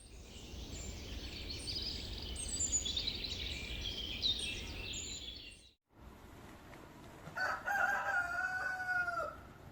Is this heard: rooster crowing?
yes